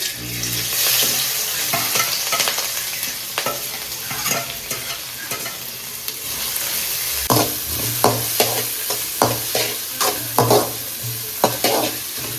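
Capsicum, coriander, ginger and green chilli frying in a pan with a loud, steady sizzle, joined later by a run of quick spatula scrapes and knocks against the pan.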